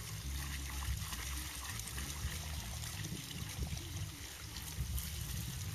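Irrigation water released from opened outlets flows and trickles down a hillside, a steady continuous rushing wash with no speech.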